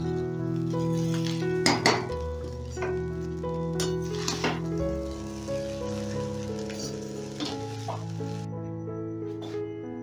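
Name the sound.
stirring rice and vegetables together in a pot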